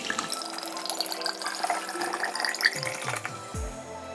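Vodka poured into a Nutribullet blender cup in a home kitchen, a continuous close liquid gurgle and splash lasting a few seconds, ending with a low thud.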